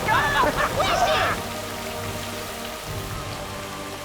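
Steady heavy rain pounds a surface during a flood scene in a film, a dense hiss that holds through the whole stretch, with a brief burst of shouting voices at the start before the downpour continues alone.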